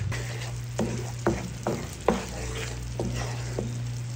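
Spoon stirring milk with camote (sweet potato) in a pan over low heat, soft scraping knocks at irregular intervals over a steady low hum and faint sizzle, close up with no voices.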